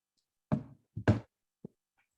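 Knocks land on a door indoors, three quick raps followed by a single softer one, clear and isolated against near silence.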